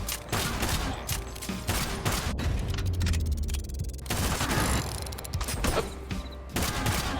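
Loud, rapid shots from the game Kill the Crows ring out in dense bursts, clustered volleys broken by a brief lull in the middle before firing resumes. No one speaks.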